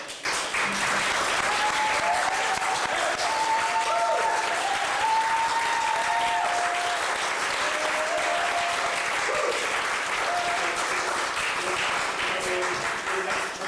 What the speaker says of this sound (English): give you a little round of applause there